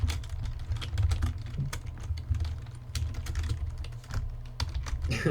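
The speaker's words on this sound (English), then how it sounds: "You hear the typing in the background." Rapid, clattering keystrokes on a loud computer keyboard, close by, in an uneven continuous rhythm with no talking.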